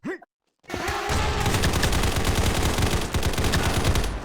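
Rapid automatic gunfire from the shooter game Combat Master, a loud, dense burst of shots running for several seconds after a short quiet gap and a brief electronic blip.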